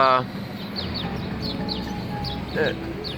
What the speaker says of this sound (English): a couple of birds playing around